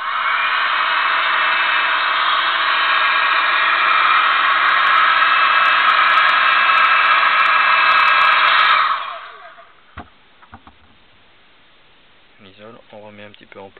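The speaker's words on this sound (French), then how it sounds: "Toujours ce décapeur thermique." Heat gun blowing hot air to shape material, a loud, steady close whoosh lasting about nine seconds before cutting off, followed by faint handling clicks and someone speaking.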